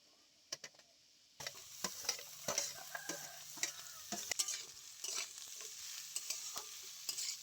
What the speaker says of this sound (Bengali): আলু পেঁয়াজ একসাথেই ভেজে নেবো